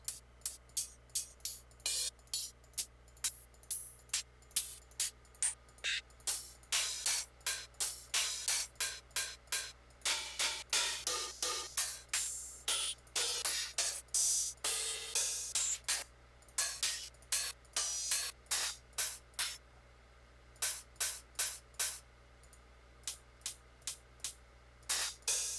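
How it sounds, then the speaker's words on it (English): Crisp electronic hi-hats tick in a fast, repeating loop for a trance track, short hissy hits over a low steady hum, with some passages busier and denser. "At the moment, I'm just creating the hat loop"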